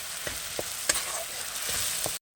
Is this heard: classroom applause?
no